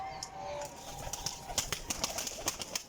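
Original Sialkoti pigeons at a pigeon dealer's loft coo softly amid scattered wing flutters and faint clicks and shuffling, with a low murmur of background noise throughout.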